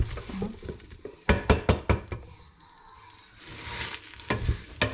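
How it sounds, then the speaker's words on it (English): Seafood chowder mixture of fish, scallops and prawns being stirred in a pan on low heat, with a quick run of sharp utensil knocks against the pan, then a soft sizzle and more scraping. "you want to mix that together for about 3 minutes, roughly, on low heat, so that it doesn't cook as quickly"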